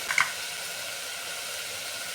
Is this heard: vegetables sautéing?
yes